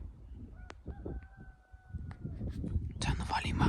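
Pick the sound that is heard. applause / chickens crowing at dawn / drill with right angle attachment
chickens crowing at dawn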